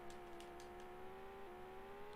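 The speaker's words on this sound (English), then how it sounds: "I love the sound of this engine." A high-pitched racing car engine in a Commodore Amiga video game holds a steady, slightly rising whine, quiet and continuous with no talking.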